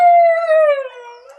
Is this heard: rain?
no